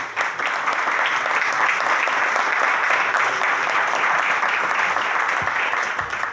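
An audience at a Spanish tribute ceremony applauds steadily, a thick, even wash of clapping that holds for about six seconds.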